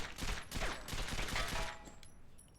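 Rapid gunfire from a retro video game on a Wii, a dense volley of repeated shots for roughly two seconds that then trails off into a quieter tail.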